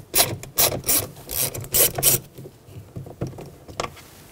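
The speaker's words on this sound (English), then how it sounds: "Take a T20 Torx bit and remove this screw." A T20 Torx screw is backed out of a door panel on a 2008-2020 Dodge Grand Caravan, with a series of close, scratchy ratcheting rasps in short bursts followed by quieter clicks.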